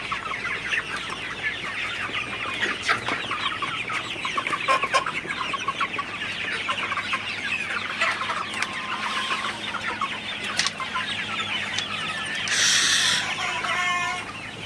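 A flock of Sonali hybrid hens clucking continuously at moderate volume while drinking water in the morning, overlapping soft calls with a louder squawk near the end.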